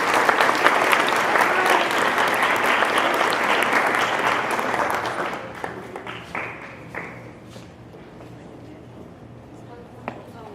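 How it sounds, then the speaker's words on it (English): An audience at a high school senior night ceremony applauds, a full burst of clapping that tapers off after several seconds into a few scattered, isolated claps. "Please give them another round of applause."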